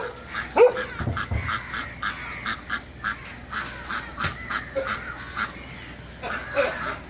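Ducks quack in short, scattered calls on Bandra Bazaar Road, a busy street, with a dog yapping at times and traffic murmur behind, the honks and bursts moderately close and irregular.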